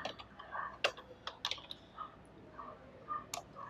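Typing on a computer keyboard while entering a MySQL SELECT command: scattered, uneven key clicks of moderate loudness, a few sharper taps standing out, with no talking.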